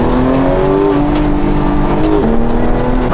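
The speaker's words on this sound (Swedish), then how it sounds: "Så en Porsche GT3. Vi ska se vad den här rackan går för." A Porsche GT3 RS sports car engine revs loud and close, a sustained high-pitched howl that climbs steadily and then drops in pitch as the revs fall.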